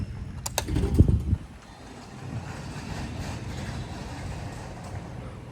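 A giant Otis hydraulic elevator with a PTL slap-on door at Fetzer Hall, UNC Chapel Hill, its doors opening with a short rumbling clunk, then a low mechanical hum running on steadily.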